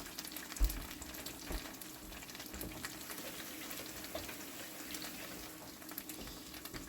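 Two eggs frying in a pan for a rye bread egg scramble give a soft, steady sizzle and crackle, fairly quiet and continuous throughout, with no one talking.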